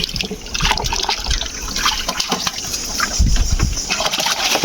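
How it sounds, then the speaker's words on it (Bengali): Young Thai pangas fish fry released into a pond, with continuous close splashing and sloshing water and a heavier splash near the end. "এখন আমরা পুকুরে মাছগুলো ছাড়বো"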